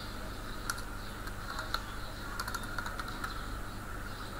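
Computer keyboard keys tapped at a terminal as a command is typed, a short series of quiet, irregular clicks over a steady low background hum.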